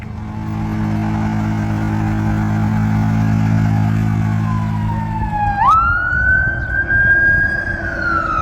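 A fire engine siren wails in a rising and falling sweep as the truck passes near a fairground flea market, over a low idling engine rumble that fades away.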